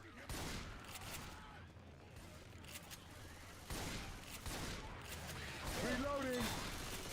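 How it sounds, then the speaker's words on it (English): Gunfire in Left 4 Dead 2 aimed at a jockey, a low continuous rattle of shots with a few louder bursts, under voices talking. "you gotta shoot that jockey"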